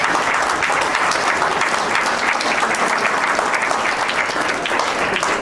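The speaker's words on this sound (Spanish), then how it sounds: "Aplaudan, siéntanse bien" Steady applause from a large seminar audience in Mexico, dense clapping that holds at an even level throughout without a break.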